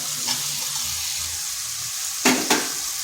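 Pumpkin and potato fry in spice paste in a pan, with a steady sizzle throughout. Near the end come two loud, close scrapes of a spatula stirring.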